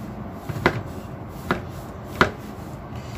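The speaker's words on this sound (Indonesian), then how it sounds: "Selanjutnya kita potong tempe." A knife chops through a block of tempeh on a cutting board, four sharp, close thuds spaced about a second apart over a quiet kitchen background, with no speech.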